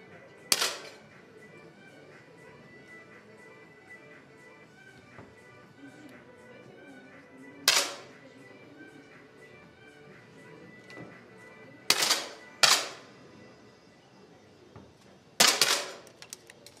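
Pistol shots ring out at a youth championship shooting competition, five sharp cracks spread irregularly across the stretch, some in quick pairs, with quiet room tone between and faint talk in the background.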